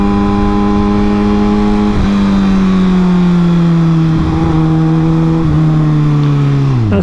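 Harley Davidson Iron 1200 motorcycle engine with low-end grunt, a loud steady throbbing drone that eases slightly in pitch, with a couple of brief shifts and no talk.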